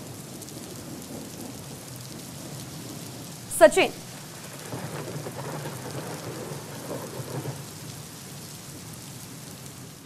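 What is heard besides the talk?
heavy rain with thunder at Khadakwasla Dam, Pune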